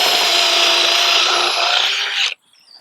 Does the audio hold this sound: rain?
no